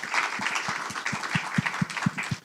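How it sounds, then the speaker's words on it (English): Audience applause for a speaker at a workshop event, moderate and steady clapping from a modest crowd, with individual claps distinct and rhythmic throughout. "Once again, a round of applause,"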